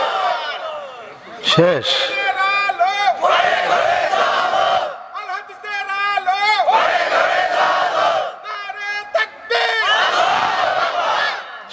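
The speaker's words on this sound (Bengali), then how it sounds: "আল্লাহকে দেখায় জোরে সোরে তাকবীর দেন তো দেখি ইনশাআল্লাহ" A large crowd at an outdoor Bangladeshi sermon gathering loudly chants takbir in repeated surging bursts, voices rising and falling together, with a preacher's amplified voice speaking in the gaps between chants.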